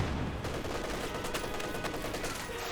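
Dense, continuous machine gun and rifle fire from a Company of Heroes 2 match, an MG position engaging advancing Soviet infantry, steady rapid crackle at moderate volume throughout with no talk.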